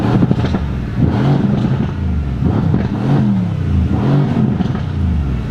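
Mercedes C63s AMG Coupe engine revving loudly and close, a deep rumbling growl that rises and falls in repeated surges over a steady low idle.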